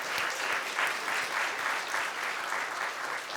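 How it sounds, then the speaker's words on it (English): Audience applause for a library team at a community Lunar New Year celebration, a steady, dense round of clapping filling the room evenly for a few seconds. "Let's give them a round of applause"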